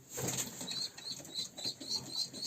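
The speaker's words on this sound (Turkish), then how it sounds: "Kanat sesleri çok güzel hedefçi kuşlar arkadaşlar" Rapid, rhythmic flapping of high-flying tumbler pigeon wings, a quick series of fluttering beats close by, fairly soft.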